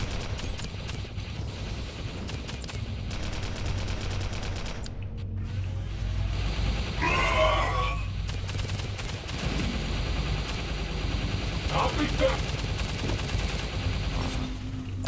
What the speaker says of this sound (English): I'm just gonna keep shooting.